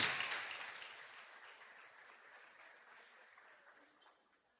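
Applause from a church congregation, loudest at the start and gradually fading away over several seconds, with no talking.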